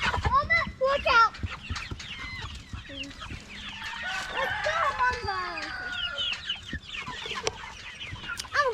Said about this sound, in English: these are the Cornish hens right here